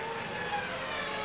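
Formula 1 cars at the 2001 Spanish Grand Prix, engines popping and crackling on traction control, a continuous high engine whine heard steadily at moderate distance without commentary over it.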